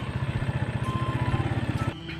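A motorcycle engine idles and pulls steadily in second gear, its low rhythmic pulsing loud and close, then cuts off abruptly near the end.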